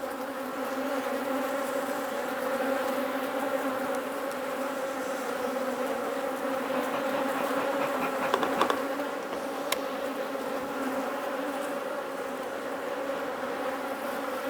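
Honey bees buzzing around an open hive during a colony inspection, a steady dense droning hum from many insects close by, with a few faint clicks partway through.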